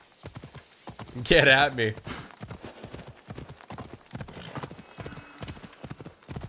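Horse hooves clip-clop in a steady rhythm while riding on horseback in the video game Assassin's Creed Odyssey, with a loud whinny near the start and a person talking over the hoofbeats.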